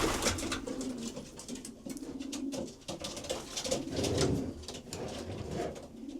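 Two young racing pigeons coo softly in low, throaty murmurs amid rustling and fluttering noises, close by and without speech.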